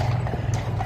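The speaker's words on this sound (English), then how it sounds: "Police on horses." Police horses' hooves clop on hard pavement in a quick, even rhythm near Wellington Arch in central London, fairly close, with a low background rumble.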